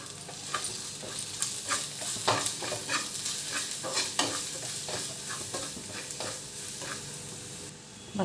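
Chilli powder, salt and garam masala frying with ginger garlic paste in a pan for egg fry, a soft continuous sizzle broken by repeated close stirring scrapes.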